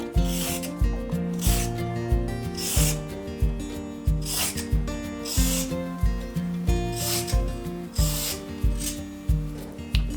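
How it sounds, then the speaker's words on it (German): Carrots being peeled with repeated scraping strokes, a steady rhythm of rasping pulls close up, each stroke clear and regular throughout with no talk. "Also erst die Karotten schälen."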